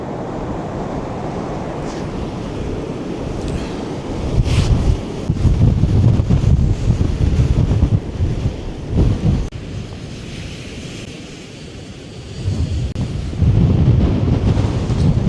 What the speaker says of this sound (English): the spray being caused by the wind, just pushing the waves back.